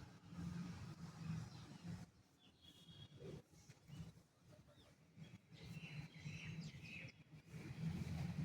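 Crows call faintly outdoors in short, scattered bursts over a low background rumble of passing car traffic, with no one speaking.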